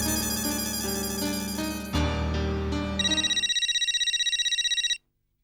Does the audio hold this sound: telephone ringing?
yes